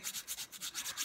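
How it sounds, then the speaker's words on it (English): A nail file smoothing the top and sides of a nail, about five quick soft rasping strokes in a steady back-and-forth rhythm, very close and quiet. "I'm just going to file it so that everything on the top of the nail and the sides are all smoothed out."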